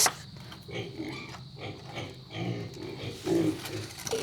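Pigs on a farm grunt and squeal in short, rough bursts, close by and moderately loud, with scuffling between calls and nobody talking.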